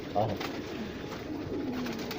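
Pigeons coo softly in a loft as the birds return to their doors, a brief fuller call near the start, then low murmuring through steady background noise.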